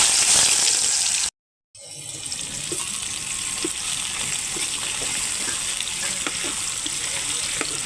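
Bitter gourd frying in hot oil, a loud, dense and steady sizzle that drops out briefly near the start and then resumes evenly, close up with no talking.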